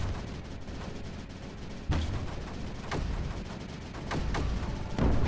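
Deep booming blasts from the Creeper World 4 video game roll over a constant dense rumble, with sharp explosions landing at irregular intervals about every second.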